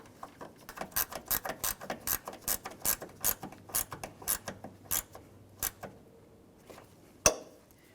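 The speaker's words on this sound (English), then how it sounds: "start in your mounting bolt and snug it up" A ratchet wrench clicks in quick, even strokes as an engine mount bolt is snugged up on a Ford Transit Connect, ending with a single sharp metallic clank.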